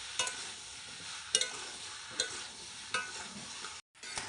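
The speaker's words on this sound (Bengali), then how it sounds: "লবণটা দেওয়ার পরে একটু নাড়াচাড়া করে নেবেন" Potatoes frying in mustard oil get stirred after salting: close spoon scrapes land about once a second over a steady, bright sizzle, with one brief dropout near the end.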